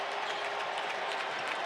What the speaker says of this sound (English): You can hear the applause in the building.